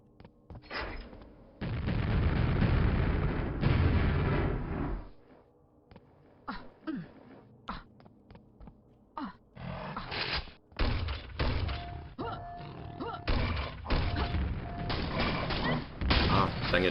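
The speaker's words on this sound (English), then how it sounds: "Now we can go pick up our amazing grenade launcher." Grenade launcher shots and explosions in the video game Quake: repeated dull thumps and booming blasts, some clustered, others spaced out, heard alone at moderate loudness.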